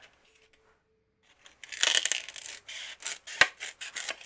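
Scissors snipping the rough edges off a styrofoam block for block printing: after a quiet start, a run of close, scratchy, rasping cuts and squeaky crunches comes in uneven bursts, with one sharp snap near the end.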